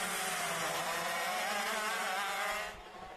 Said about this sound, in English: Trefilov must hear the revving engine of Colin Daly behind him